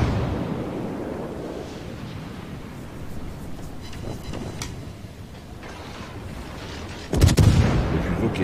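Naval gunfire from a warship in World of Warships, shooting into a smoke screen: a steady low rumble of battle ambience breaks into one loud, heavy boom near the end that keeps rolling.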